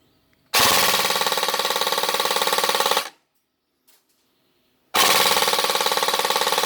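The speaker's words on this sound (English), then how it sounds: "Matrix MG42 test fire" A Matrix MG42 airsoft machine gun fires two long continuous bursts, close and loud, with a rapid mechanical rattle; a silent gap with one faint click separates the bursts.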